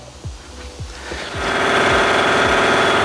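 An air compressor in a workshop where a Mazda MX5 NC wheel arch is being repaired knocks with slow, spaced pulses, then spins up into a steady, loud running hum nearby.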